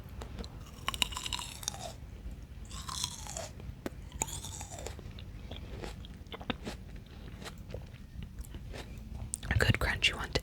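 Crunchy grapes chewed close to the microphone in a whispered ASMR session, with repeated soft crunches and wet bites scattered between hushed whispering.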